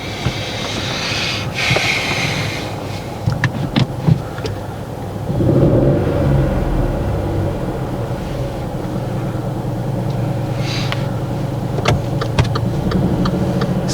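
A car pulls away during a driving lesson, its engine rumbling steadily up close. A louder surge comes as it moves off, with a few clicks and knocks over the drone.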